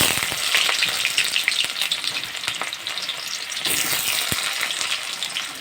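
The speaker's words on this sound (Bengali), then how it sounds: "শুকনো লঙ্কাগুলোকে ভালো করে নেড়ে চেড়ে এর মধ্যে দিয়ে দেব কেটে রাখা পেঁয়াজগুলো।" Dried red chillies and chopped onions fry in hot oil for masoor dal khichuri, a loud, dense, continuous sizzle with scattered scraping clicks of stirring throughout.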